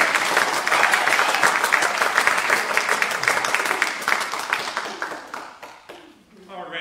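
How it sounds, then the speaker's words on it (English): Audience applause after a spring concert program, brisk and full at first, then thinning into scattered claps as it fades, with a voice briefly audible at the close. "deserve a little extra applause"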